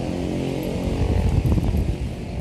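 A Honda Vario LED first-generation scooter engine idles close by with a steady low rumble and a slight pulsing flutter from the exhaust, running alone with no talk.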